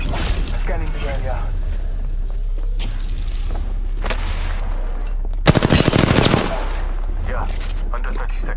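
Automatic weapon fire in the battle royale shooter Apex Legends, a dense burst of rapid shots lasting about a second over steady game ambience and background sounds.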